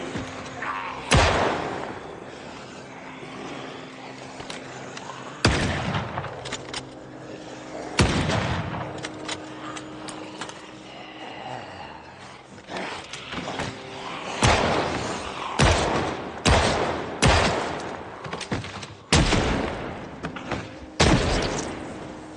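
Repeated M9 pistol shots in the video game Project Zomboid, sharp loud cracks spaced irregularly, some in quick clusters, over faint background game ambience.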